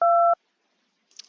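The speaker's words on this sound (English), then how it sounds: "You pause anxiously for a second and dial their phone number." A single two-tone telephone keypad beep sounds once, clean and sustained for a moment, followed by near silence and a faint brief rustle.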